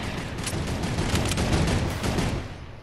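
Rapid continuous turret gunfire in the video game Food Wars, a dense loud fusillade of shots sustained for about three seconds without talk.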